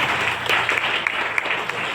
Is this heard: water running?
no